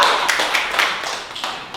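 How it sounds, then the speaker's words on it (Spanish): A small group claps along in rhythm during singing of a Paraguayan song, a handful of fairly close, evenly spaced claps over a soft background. "Y el aplauso, ¿verdad?"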